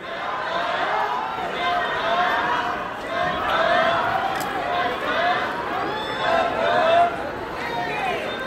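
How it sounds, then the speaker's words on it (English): Arena crowd at a live boxing card in Live! Casino, Hanover, Maryland, a continuous babble of many voices swelling and easing, with occasional louder shouts rising from the spectators across the full stretch. "Hear the crowd right here."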